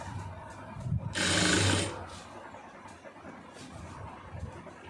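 A sewing machine runs one short burst of straight stitching along a churidar seam, lasting under a second amid quiet room noise.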